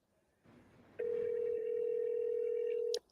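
A steady single-pitch telephone tone sounds on a call being transferred, holding loud and unbroken for about two seconds before cutting off, with no voices over it.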